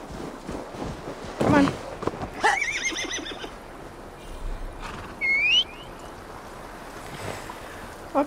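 A horse in Assassin's Creed Valhalla whinnies in short bursts while being ridden, with a rising neigh, higher squeals and snorts over a faint rushing background, and some voice nearby.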